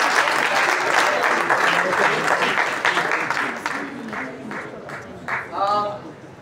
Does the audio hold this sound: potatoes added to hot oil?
no